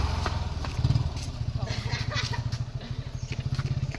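A motorbike idles with a rapid, even low putter while being pulled over and parked at the roadside, the engine pulsing steadily close by while people talk over it.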